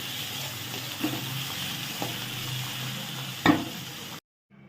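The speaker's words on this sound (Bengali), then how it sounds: "ঝাল ভাজছি" Continuous hiss of green chillies frying in a pan, with a few soft knocks of a utensil and one sharper clatter before it cuts off.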